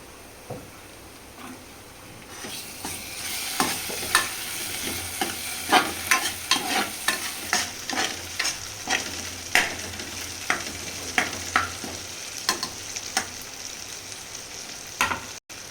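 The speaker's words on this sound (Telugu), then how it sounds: "నెక్స్ట్ అల్లం వెల్లిపాయ మసాలా వేయాలి. వేసి మంచిగా నిదానంగా కలుపుతూ ఉండాలి." Ginger-garlic paste fries in a pan with onions for a gizzard chicken fry, a steady sizzle broken by a long series of regular spatula scrapes and taps, close and fairly loud.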